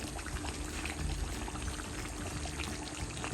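Yogurt pours into a pan of chicken karahi cooked with onions and tomatoes, a steady soft wet rush that runs evenly and close throughout without talk.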